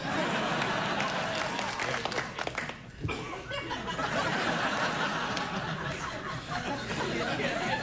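Late-night talk show studio audience applauding and laughing, a loud sustained wave of clapping with chuckles mixed in, dipping briefly near the middle before swelling back up to full volume.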